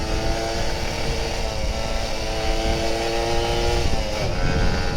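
An old Kawasaki Ninja RR 150 two-stroke motorcycle is held on throttle on a hilltop road, giving a loud, close, continuous buzzy engine note with a slight shift in pitch near the end.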